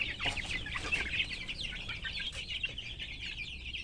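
Chickens sick with a virus cluck and chatter continuously nearby, several birds overlapping in a busy, steady flock murmur with no talking.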